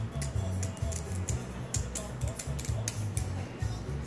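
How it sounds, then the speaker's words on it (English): Scissors snip through stiff boron fiber with heavy pressure, a quick series of sharp crunching cuts and clicks that sound close and distinct. "And that just took a substantial amount of pressure on the scissors."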